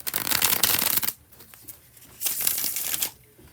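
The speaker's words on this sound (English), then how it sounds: "Time for the second and last bridge shuffle." A deck of tarot cards gets a bridge shuffle, two crisp bursts of rapid riffling flutter, each about a second long, separated by quiet handling, close and loud.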